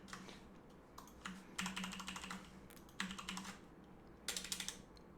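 Keystrokes on a computer keyboard during a live Python programming lesson, coming in irregular bursts of quick clicky taps separated by short pauses, close and moderately loud against a faint background hum.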